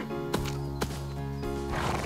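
A wild horse neighs in a tense ranch scene, with a steady droning background and a few sharp knocks or hoof-like thumps across the short stretch.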